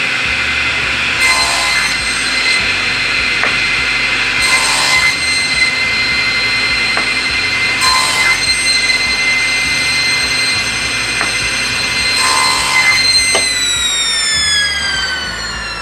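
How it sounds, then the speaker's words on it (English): A table saw runs at a steady loud whine while wood is pushed against a clearance block and cut repeatedly, four rhythmic cutting passes rising over the constant motor hum, then the blade spins down at the end. "I'm simply going to push the piece against the clearance block and cut"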